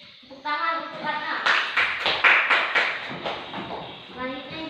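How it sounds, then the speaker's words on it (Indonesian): Classroom applause for a student after a lesson on religious ethics, with children's voices mixed in; a burst of clapping builds quickly and then fades back into chatter. "Tepuk tangan untuk Ratna."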